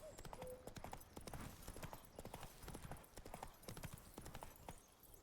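A horse in The Witcher 3 video game trots along, its hooves clip-clopping in a steady, brisk rhythm close by throughout.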